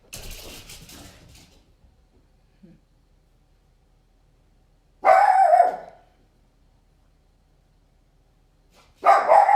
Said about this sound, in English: A very active puppy tonight.